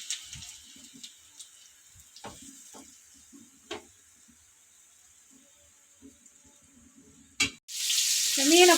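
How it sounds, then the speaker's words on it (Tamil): Rock fish is dropped into hot oil in a frying pan. After quiet kitchen clinks and taps, a sudden loud sizzle bursts up at the end and keeps crackling. "இந்த மீனை போட்டுருக்குது நல்லா ஒரு பக்கமாக வெந்து வரட்டும்."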